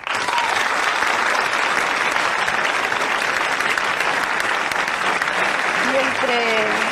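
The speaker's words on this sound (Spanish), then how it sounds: "pido un gran aplauso para todos los contribuyentes españoles" A crowd at a Spanish interview event breaks into loud, sustained applause, dense and continuous throughout, with a voice briefly audible near the end.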